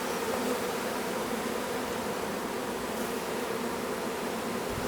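Honeybee swarm buzzing around a hive on a farm in summer, a dense continuous drone of many wings close to the microphone, steady and unbroken throughout.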